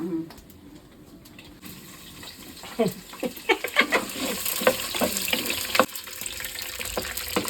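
Onions frying and being stirred in a pan for a Tamil-style fish curry, with scraping stirs and wet sizzling that grow busier midway, close and moderately loud, while women chat in the background.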